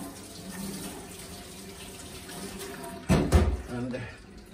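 Tap water runs steadily into a container being rinsed out, a soft continuous splash that turns louder and more churning for a moment near the end.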